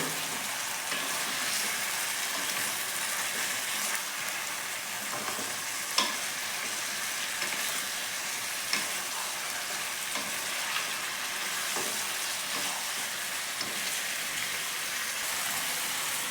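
Chicken mixed with cashew paste for doi chicken cooks in a pan, a dense steady sizzle like heavy rain, with occasional stirring knocks and scrapes, close and continuous without speech.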